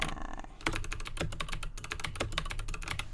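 Rapid keystrokes clatter on a computer keyboard as a note title is typed, a quick, uneven run of close, crisp clicks after a brief pause at the start, with no one speaking.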